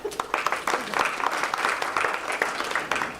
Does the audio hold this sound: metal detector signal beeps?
no